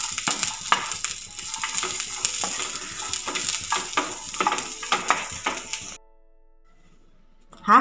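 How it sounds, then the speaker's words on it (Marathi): Whole spices (peppercorns, cloves, fennel and poppy seeds) dry roast in a pan for a Malvani curry, with uneven scraping and rattling stirring strokes close by, then a sudden drop into near silence. "लालसर होईपर्यंत भाजायचं आहे."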